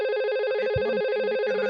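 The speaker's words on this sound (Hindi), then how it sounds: "फोन रिंग भी कर रहा है और इसकी रिंग भी आ रही है।" An IP phone rings on an incoming call, a loud, steady electronic warble that pulses evenly and fills the whole stretch without a break.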